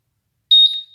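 A Honda Vario motorcycle fitted with a Honda PCX keyless system gives a single clear, steady high electronic alarm beep that starts halfway through and is followed by a brief second chirp; no speech.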